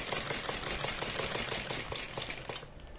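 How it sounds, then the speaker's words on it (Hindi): A sewing machine stitching fabric beside buckram for a neck design, a fast, even mechanical whirring run of stitches that stops abruptly near the end. "ये सिलाई लगाने के बाद हम अपनी बुकरम के बराबर में चारों तरफ सिलाई लगा देंगे"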